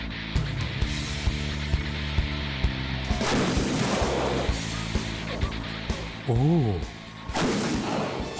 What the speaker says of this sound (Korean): 3포 사격 준비! 사격 준비! 쏴! 고해에 맞춰 힘차게 발사되는 포탄.